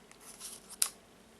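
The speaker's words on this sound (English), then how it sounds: "now I will take the scissors and put the scissors under these cords and cut" A single quick snip of scissors cutting through yarn cords near the end of a faint, quiet background.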